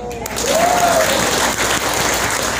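Applause from a training-seminar audience, a steady wash of many hands clapping that carries through the whole stretch, fairly loud and close, with one brief whistle-like tone early on.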